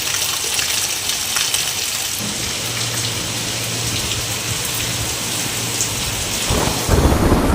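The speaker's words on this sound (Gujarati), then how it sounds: "વહેલી સવારે ધીમી ધારે વરસાદ ખાબક્યો" Rain falls in Gir Somnath in the early morning as a steady close hiss of drops on surfaces, with a low rumble like distant thunder in the middle and heavier pattering toward the end.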